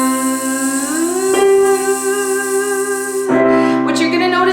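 A sustained vocal buzz imitating a bee, used as a beginner singing warm-up: one steady voiced drone that slides upward, breaks off briefly, then resumes at a higher pitch, loud and close with no other sound.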